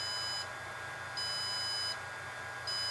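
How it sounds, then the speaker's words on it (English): High electronic beeps from Walksnail Avatar FPV goggles during a firmware upgrade, repeating in a steady pattern, each tone held under a second with short gaps, over a faint hum. "Oh, there's the beeps, that's good, which means it's powering back up again."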